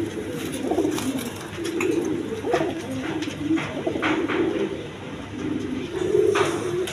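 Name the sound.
pigeon pair, male and female, cooing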